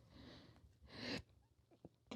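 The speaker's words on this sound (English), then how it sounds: "I had to sneeze" One close sneeze bursts out sharply after a soft inhaling buildup, followed by faint sniffs and small mouth noises in a quiet setting.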